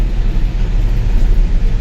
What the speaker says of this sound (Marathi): इकडे गाड्याच गाड्या